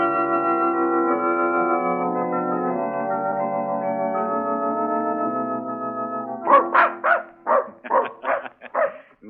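In a radio drama, a dog barks happily in a burst of several quick, loud yips near the end, after a sustained musical tone fills the opening seconds.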